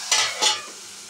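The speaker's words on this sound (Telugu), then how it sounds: "ఇంకా కొంచెం ఫ్రై అవ్వాలి." Food frying in a pan during home curry cooking, two short bursts of hissing sizzle as it is stirred, close and fairly loud, then a quieter steady fry.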